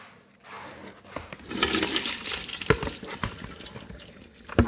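Cooking water is drained off boiled abacha (shredded cassava), starting quietly and swelling after about a second into a rushing, splashing pour that carries on with uneven gurgles and spatters.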